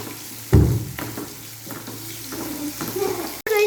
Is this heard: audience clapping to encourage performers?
no